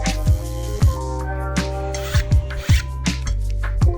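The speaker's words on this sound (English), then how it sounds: "we give all of the models a good sanding to make the surface as smooth as possible" Rasping hand sanding of dried slurry-coated models, a steady scratchy rub with rhythmic strokes close up over a low background hum.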